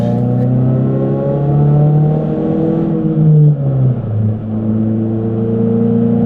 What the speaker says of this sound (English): Now let's get this manual SUV out on the road and drive it